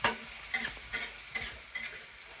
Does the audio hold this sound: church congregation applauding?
no